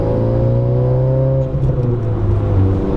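A modified Honda Civic Type R engine pulls under light throttle, a steady close droning tone with rising harmonics that holds for about three seconds, with no talking.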